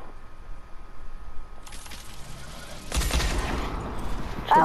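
Gunfire in a shooting video game, a dense spray of distant shots that swells into a louder, closer burst of rapid fire over a low rumbling background, with a sharp crack at the very end.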